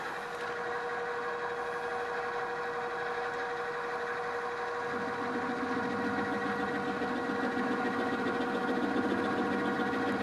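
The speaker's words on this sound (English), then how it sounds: "you can hear some rumbling, some chatter" Milling machine running steadily in a machine shop, a continuous mechanical hum with rumbling chatter that thickens and grows rougher midway as the cut proceeds, loud and unbroken.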